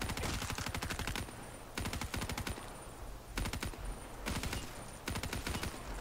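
The Dingo machine gun firing in Black Ops 3 Zombies on the Scrapyard map: rapid automatic bursts, loud and close, broken by short pauses between strings of shots.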